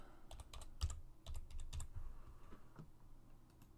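Fingers type a login name and password on a computer keyboard, a quick run of soft, close key clicks in short bursts that thin out toward the end.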